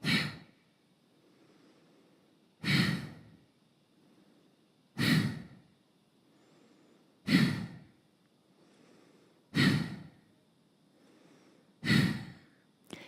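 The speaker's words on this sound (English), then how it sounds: "Keep on breathing like that for a little bit longer." Deep belly breathing exercise: six strong, forceful breaths spaced evenly about two seconds apart, each a loud rushing exhale close by, with quiet soft inhales between them in an otherwise silent room.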